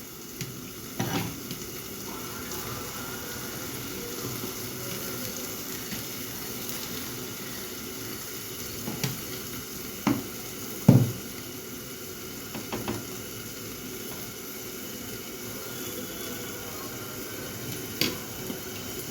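Uttapam batter on a hot pan gives a soft continuous sizzle, punctuated by a few sharp scrapes and taps of a utensil, heard without any talk.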